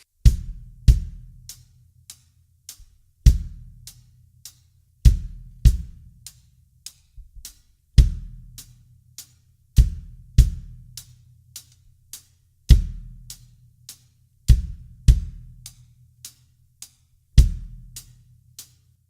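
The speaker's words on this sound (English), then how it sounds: "So the way that the kick drum sounds with the hi-hat is now like this." Beginner drum beat on a kit: a deep kick drum thumps in a repeating pattern with crisp, evenly ticking hi-hat strokes, played alone and up close.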